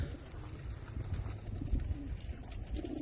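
Racing homing pigeons at a club release in Najran, Saudi Arabia, with soft cooing and a dense flutter of many birds close by, a steady low rustling wash throughout.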